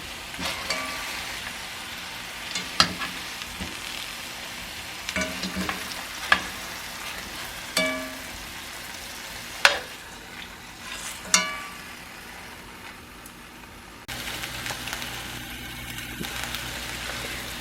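Rabbit pieces sear in a pan with a soft, constant sizzle, broken by several sharp clinks and scrapes of stirring spread through the stretch; quiet and close, with no talk.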